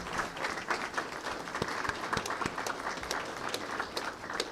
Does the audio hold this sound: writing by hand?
no